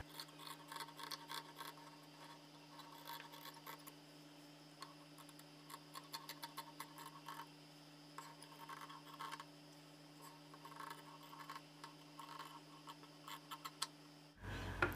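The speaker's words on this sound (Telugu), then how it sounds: "ఇప్పుడు కటింగ్ చేసేద్దాం." Scissors cutting fabric for a drop neck blouse produce soft, close snipping in irregular bursts over a faint steady hum, quiet throughout with no talking.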